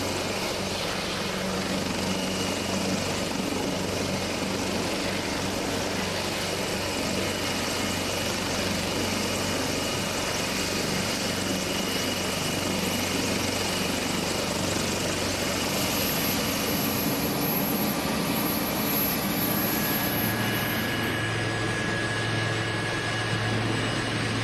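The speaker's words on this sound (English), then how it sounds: "An eye-catching civilian participant was this AW189 VIP helicopter of Gulf Air from Qatar." An AW189 VIP helicopter of Gulf Air from Qatar at the 2015 Malta International Airshow, its steady rotor and turbine roar holding loud and continuous throughout, with no talk over it.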